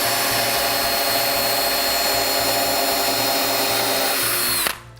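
A power drill bores a pilot hole into wood, a loud steady whining grind that runs nonstop for nearly five seconds before cutting off abruptly.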